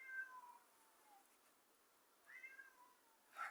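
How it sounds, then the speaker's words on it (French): A domestic cat howls indoors in long, wavering meows, two drawn-out calls followed by a sharper short one at the end, faint and somewhat distant against quiet silence. "J'entends mon chat hurler à la mort."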